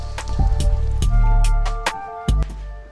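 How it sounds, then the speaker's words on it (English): Rain falls steadily outside a house under renovation, a dense patter of drops and drips striking nearby surfaces with occasional louder splats, heard alone. "let's get out of this rain"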